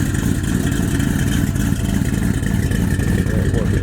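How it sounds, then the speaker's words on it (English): A turbocharged Chevrolet Camaro engine idles loudly and steadily with a deep, throaty exhaust rumble, close up and continuous. "I like the way them tailpipe sound"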